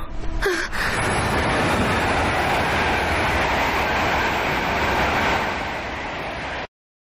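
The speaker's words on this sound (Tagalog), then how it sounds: "Pararaanin na po muna natin ang isang express train." An express train rushes past close by in a tunnel, a loud, steady roar of wheels and carriages building suddenly and holding for several seconds before cutting off abruptly.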